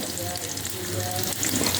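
Onion and spice paste frying lightly in a pan for a meat dish: a steady close sizzle with faint stirring scrapes, growing a little louder toward the end, no talking.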